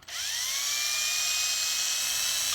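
A high-pitched motorized whine of an electric drill spins up quickly and holds steady for a couple of seconds before cutting off abruptly, drilling holes for guitar fret position markers.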